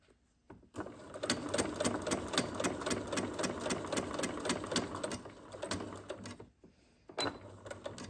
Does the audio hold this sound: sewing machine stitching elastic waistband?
yes